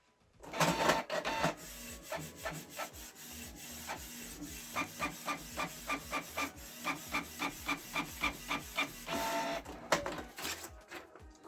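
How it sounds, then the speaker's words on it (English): A Canon PIXMA G3410 inkjet printer runs a test page, with its print head shuttling in a steady, regular series of rhythmic rasping strokes. The printer is close and moderately loud, with whirring feed noise at the start and end and no talk. "It's printing a document."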